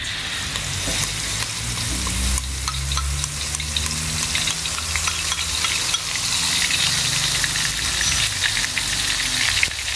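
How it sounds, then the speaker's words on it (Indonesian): Ground spice paste for West Sumatran gulai sautéing in hot oil, a loud, steady close sizzle with stirring rattles throughout, no talk. "kita pertama kali akan tumis dulu bumbu yang sudah kita haluskan tadi"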